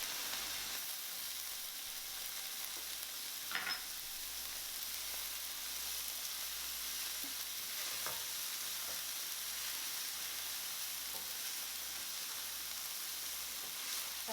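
Celery and pepper stir-fry in a pan for vegan broccoli slaw fried rice, giving a soft, steady sizzle with a few faint stirring knocks.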